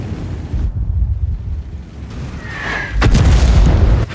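A single loud artillery shell explosion lands near the player's tank in World of Tanks. It hits hard at about three seconds, after a whistling sweep, over low rumbling engine and ambient noise.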